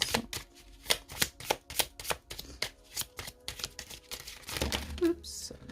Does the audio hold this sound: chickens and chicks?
no